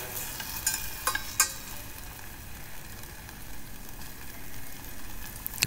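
Mackerel with tomato is stirred and fried in a pan: a soft, continuous sizzle with a few sharp scraping clinks of the utensil against the pan, close and fairly quiet.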